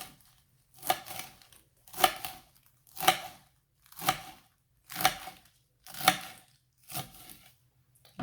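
A knife cuts through rolled-up collard greens in eight evenly spaced, crisp chops about a second apart, close and clear with quiet gaps between.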